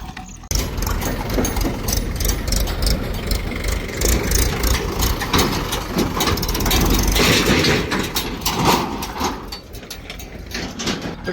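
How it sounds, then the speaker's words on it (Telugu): Tractors on farmland driving away, a loud rumbling engine drone with mechanical rattling that swells around the middle and stays close, with no talk over it. "ట్రాక్టర్లు వెళ్ళిపోతున్నాయి."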